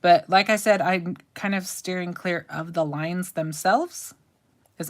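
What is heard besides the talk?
No everyday noises stand out.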